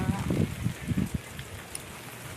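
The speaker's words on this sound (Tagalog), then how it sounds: "hangin at saka ulan" Typhoon Kabayan's rain and wind wash outdoors in a steady hiss, with a voice briefly speaking in the first second over the downpour.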